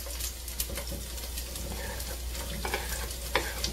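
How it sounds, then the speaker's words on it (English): Mixed vegetables hit hot coconut oil in a pan and sizzle loudly and steadily, with some crackling pops and light stirring. "so let's let that coconut oil heat up. Let's add all of the veggies."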